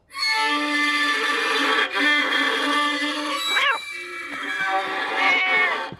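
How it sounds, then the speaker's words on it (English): A cartoon cat in an animated Mr Bean episode gives a run of loud, drawn-out meows and caterwauls close up, with pitch bending upward, and brief gasping sounds from people between them. "You said you didn't have a cat."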